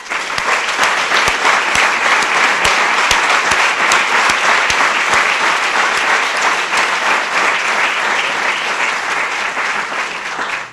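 A lecture audience breaks into dense, loud applause to welcome Paul Orfalea, a steady wash of clapping that holds for about ten seconds before tapering slightly.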